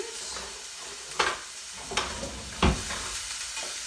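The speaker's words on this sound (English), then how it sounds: "We want to saute it. But we want to hear that nice sizzle when we throw it into the pan." Steady frying sizzle of onion in oil in a pan, fairly quiet, punctuated by a few sharp scraping stirs as the onion is moved around.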